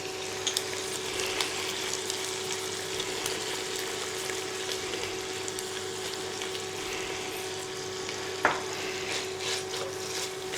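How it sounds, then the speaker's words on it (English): Pancetta and sofrito cooking in a pot, a soft continuous sizzle with a few light scrapes and clicks of stirring, faint and steady throughout. "Give it a stir in and then just let it keep on cooking out slowly."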